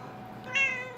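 A cat lets out one short, fairly faint meow inside a hotel room where a woman has been living, a single brief cry over quiet room tone.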